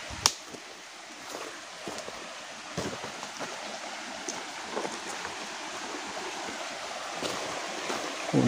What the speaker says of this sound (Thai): มาถึงลำธารใหญ่แล้วครับทุกคน